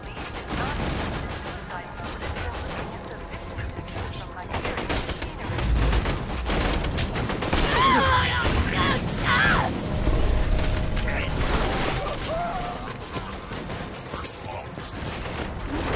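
Gunfire in the shooter game Borderlands 2 rattles in rapid bursts and fusillades with mechanical clanks and booms, continuous and dense, while a voice talks over the action.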